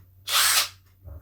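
Tekiro XV brushless 20V cordless impact driver giving one short burst of about a third of a second, a loud, close whirring spin that starts and stops abruptly, followed by a faint low thud.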